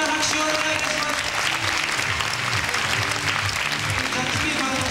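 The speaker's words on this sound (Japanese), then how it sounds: "両選手に盛大な拍手をお願いいたします。" An arena crowd at an MMA event claps loudly for both fighters after the bout, with continuous dense applause throughout and some indistinct voices mixed in.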